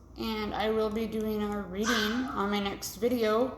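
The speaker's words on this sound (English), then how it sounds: "Sorry about my dogs. They really like to talk sometimes." Dogs yip and whine in drawn-out, talkative vocal bursts layered under someone speaking, fairly close and loud.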